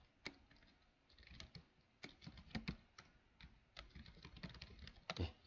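Quick, irregular clacking of keys on a computer keyboard, close and fairly quiet, with bursts of rapid taps and short pauses between them.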